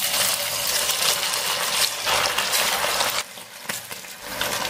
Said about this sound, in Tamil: மீதி இருக்கிற சிக்கன் வந்து போட்டு பொரிச்சு எடுத்துக்கலாங்க.